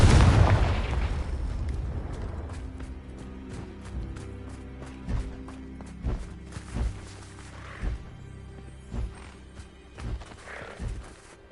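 A blasting spell in Hogwarts Legacy erupts as a loud booming explosion at the start, its rumble decaying over several seconds, then a series of lighter thuds and footfall-like knocks follow at regular intervals.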